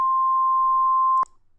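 A steady high-pitched 1050 hertz sine tone from a sound generator sounds clearly for just over a second, then cuts off abruptly with a click, leaving faint background.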